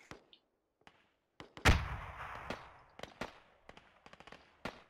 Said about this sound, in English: I, just saw a pumpkin explode in front of me, that was sick.